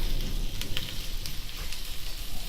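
Onion fries in butter in a pan, giving a steady, soft, close sizzle with light crackles and no voices.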